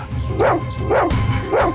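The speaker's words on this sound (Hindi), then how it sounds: "बार बार उस तरफ मुंह करके भौंक क्यों रहा है" A dog barks three times in an even rhythm, loud and close, over a low background murmur.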